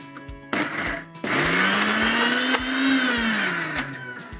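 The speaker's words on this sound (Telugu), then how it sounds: "ఇప్పుడు కొంచెం నీళ్ళు వేసి మిక్సీ పట్టుకోండి" A kitchen mixer grinder whirs loudly as it blends coconut chutney with added water, starting after a brief pause and holding a steady, rising motor whine that runs alone until the end.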